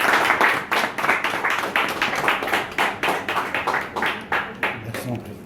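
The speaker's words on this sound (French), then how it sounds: "sous les applaudissements, mesdames et messieurs, de cette démonstration" Applause from an audience at a demonstration in Paris in January 2016, heard as a run of clear, fairly regular claps in a rhythmic pattern at moderate volume.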